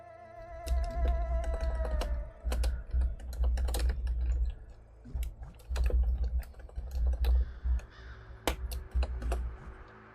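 Rapid bursts of typing on a computer keyboard, crisp close key clicks arriving in uneven clusters with brief pauses, alone without talk, soft game background sound underneath.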